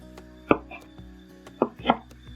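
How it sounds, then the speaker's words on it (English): A knife rough-chops rolled herbs for tabbouleh on a cutting board, giving a few sharp, close thuds spaced irregularly with quiet gaps between them. "we're going to rough chop all through this"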